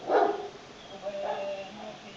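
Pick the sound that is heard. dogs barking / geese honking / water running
dogs barking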